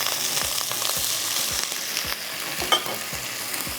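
Hot oil sizzles and crackles steadily in a pan after a little water is added, a close, continuous frying hiss with faint scraping stirs and occasional sharp pops, and no talk.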